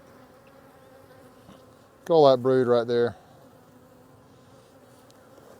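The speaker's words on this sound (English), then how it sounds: "Love these bees." Honey bees from an opened hive's top box, calm and worked without smoke, keep up a steady low drone throughout, with someone speaking briefly in the middle.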